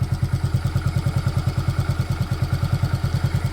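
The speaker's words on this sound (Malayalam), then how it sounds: "എഞ്ചിൻ്റെ അവിടെ സൗണ്ട് നോക്കിയോട്ടാ" A motorcycle engine idles up close with an even, rapid, thumping beat throughout, loud and steady with no voices.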